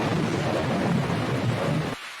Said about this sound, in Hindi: आसमान में तेज गरज हो रही थी।